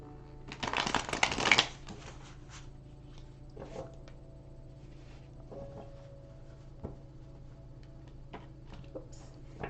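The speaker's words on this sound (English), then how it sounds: "Are you done shuffling? All right. A little bit of overhands." Oracle cards shuffled overhand in a quiet room, a brief burst of rapid riffling near the start followed by faint scattered ticks and card taps.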